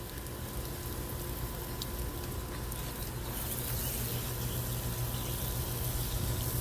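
Water pouring from a hose or can onto tomato plants in a container garden, a steady close rushing splash with no talk.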